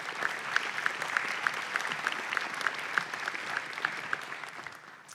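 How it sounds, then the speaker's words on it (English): An audience at an awards ceremony claps together in sustained applause, dense and even, with a few sharper rhythmic claps standing out before it tapers off. "And another round of applause"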